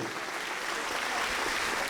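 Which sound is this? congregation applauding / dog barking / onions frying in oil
congregation applauding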